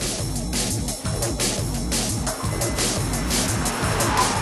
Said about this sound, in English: Oh, listen to that engine.